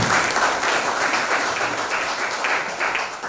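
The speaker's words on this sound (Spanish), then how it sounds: "Con fuertes palmas los recibimos." Audience applause at a Spanish-language book presentation in a cultural centre, welcoming the co-author: dense, steady clapping from a sizable crowd, sustained and fairly loud throughout with no speech over it.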